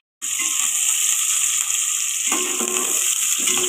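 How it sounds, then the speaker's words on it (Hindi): Chopped onion frying in oil in a pan with cloves and cinnamon for potato biryani, giving a steady, loud, continuous sizzle throughout with a few brief stirring scrapes and no talk. "प्याज लाइट ब्राउन करने,"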